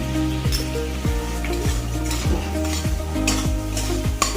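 Fish curry masala sautés in oil in a pan, with a lively sizzle and rhythmic ladle strokes about every half second, over faint background music.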